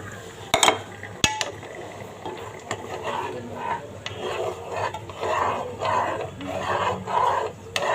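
A beaten egg is stirred into chicken and vegetable soup in a pot, with rhythmic scraping strokes against the pot and a couple of sharp knocks early on, close and steady, no speech.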